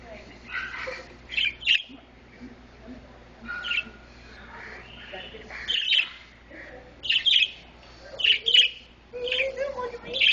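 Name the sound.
pet bird chirping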